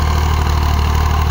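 A tractor engine idles steadily and loudly at close range, a continuous low rumble with no breaks and no voices.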